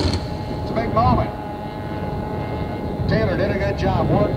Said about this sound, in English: worked hard to get that boat up on a plane, but I'll tell you what, he popped it up real quick